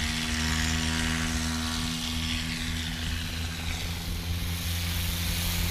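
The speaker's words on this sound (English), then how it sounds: "here goes Paul Rogers now in that Carbon Cub" A Carbon Cub light airplane taking off at a short-takeoff competition practice, its propeller engine a loud, steady droning hum held close throughout.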